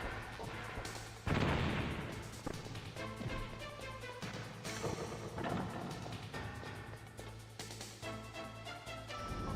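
Stun grenade bursting in a Metal Gear Solid game, a sudden loud bang followed by further crashing blasts and pops over game background noise.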